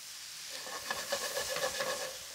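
Broccoli tossed into a hot pan for turkey pesto calzones, a bright sizzling hiss that flares up as the florets land and keeps crackling close by.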